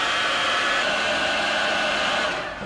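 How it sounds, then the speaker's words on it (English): A heat gun blows a loud, steady whooshing roar at close range while shrinking red heat shrink tubing over soldered amplifier wires, then cuts off abruptly at the end. "with a bit of red heat shrink, just shove that over the edge there and give it a zap"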